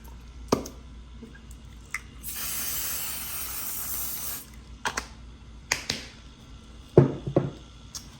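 A steady hiss of an aerosol can spraying for about two seconds, surrounded by scattered clicks and handling noises.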